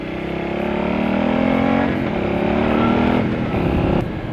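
A motorcycle engine, a bike with over 10,000 miles, revs hard up close in a steady, loud, rising drone that eases off near the end.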